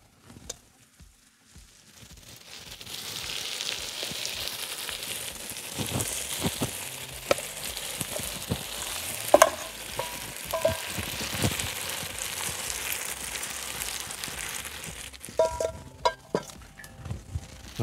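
Potatoes added to hot fat in a kazan over an open fire for Georgian ojakhuri, a loud steady sizzle and spatter that begins after a few soft clinks and runs continuously, with occasional scraping taps near the end.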